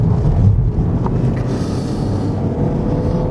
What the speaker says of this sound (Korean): 그럼 BMW X1과 함께 달려볼 텐데요.